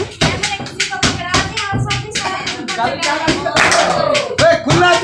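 Hands clap in a steady rhythm along to a song at a large mehndi wedding function before the groom's procession, sharp close claps repeating throughout, with voices talking and singing beneath them.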